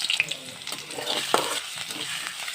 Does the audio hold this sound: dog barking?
no